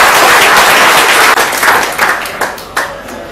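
An audience at a meeting claps loudly for the managing director, dense applause that holds strongly before thinning into a few scattered final claps as it fades out.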